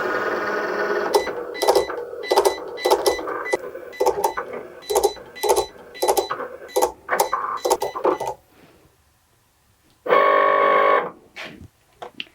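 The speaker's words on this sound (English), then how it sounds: "Then we can add our envelope with the foil attached to the Cricut." A Cricut cutting machine foils lines onto an envelope, a close, loud run of rapid whirring motor bursts and clicks for about eight seconds, then a pause and one last steady mechanical buzz.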